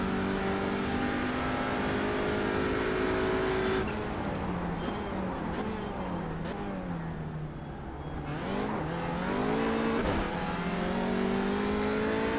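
A TCR touring car's engine at COTA in iRacing, revving steadily then dropping as it shifts into second gear around the middle and pulling back up, loud and continuous near the listener.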